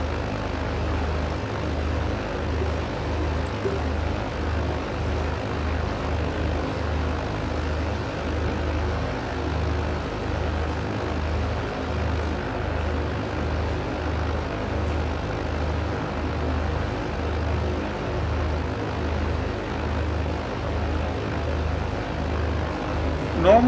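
Britten Norman BN-2 Islander propeller plane taxiing in Microsoft Flight Simulator, a steady loud engine drone with rhythmic propeller pulsing throughout, continuous and near.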